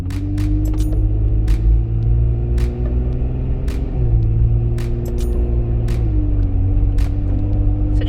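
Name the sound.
Jeep Wrangler JK driving on 37s with stock 3.21 gears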